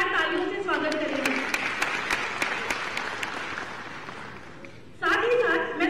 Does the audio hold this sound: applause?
yes